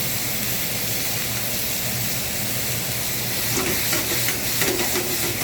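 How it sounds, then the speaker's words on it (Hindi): Vegetables stir-fried over a high flame in a dhaba-style kadhai in an Indian kitchen: a loud, steady sizzle and hiss throughout, with scraping stirs and clatter picking up toward the end, no talking. "इन सब्जियों को अच्छे से हम भुनेंगे"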